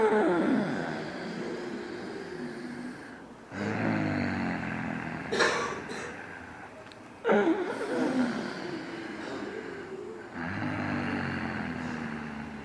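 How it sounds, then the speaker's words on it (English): A loud breathing exercise in four long, forceful breaths, each a rough, airy rush that swells and fades, close and alone, with short gaps between them. "When you breathe like this, I make it a little bit louder for you to hear"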